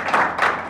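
A brief burst of audience applause at a billiards championship award ceremony in Niğde, Turkey, with a few quick pulses of clapping.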